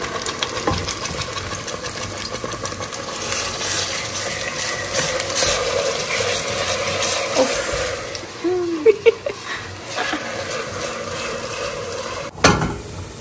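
Onion and chili paste hits a pan and fries with a moderate, continuous sizzle and crackle, joined by a few brief scraping stirs near the end.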